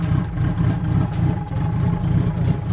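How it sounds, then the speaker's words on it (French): A car engine running and revving, a loud, deep, steady rumble with rhythmic low pulsing throughout and no speech. "Donc il y a un gros son au niveau du moteur."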